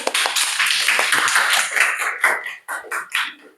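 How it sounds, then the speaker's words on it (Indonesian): A school class clapping their hands together in a classroom, a dense burst of close, loud claps that thins into a few scattered, uneven claps at the end. "Tepuk tangan ya."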